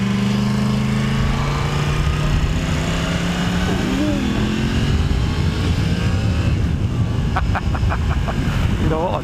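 A Yamaha MT-10 SP motorcycle engine is heard up close while riding under open throttle. Its steady roar rises in pitch as the bike accelerates, with wind noise around it and a person talking over it.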